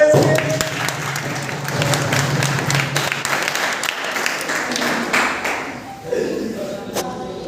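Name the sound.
audience applause at a play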